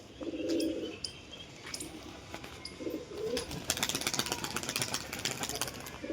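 A female domestic pigeon gives several low, soft coos in short bursts, faint against a quiet outdoor backdrop with scattered bird chirps and a light engine hum, and no one speaking.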